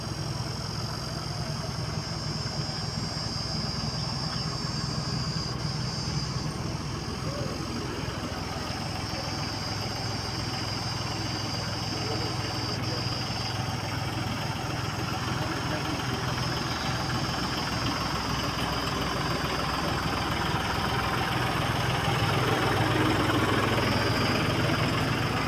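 A vehicle engine idles steadily for a long stretch, a constant low rumbling drone with a faint high whine, while people talk over it.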